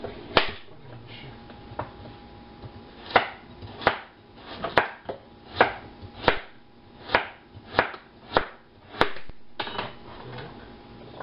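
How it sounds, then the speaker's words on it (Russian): Carrots chopped with a knife on a board while making a quick fish soup, a dozen or so sharp, fairly quiet knocks in an uneven rhythm with short pauses, close by and without talk. "Морковку тоже режем."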